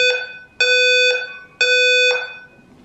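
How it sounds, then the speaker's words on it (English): A condo fire alarm system under test blares loud, harsh buzzing tones in a regular pulse, three long blasts about half a second apart, indoors with no talking. "Apparently they're doing a test of the fire alarm system."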